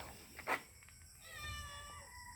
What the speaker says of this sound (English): Little kitten.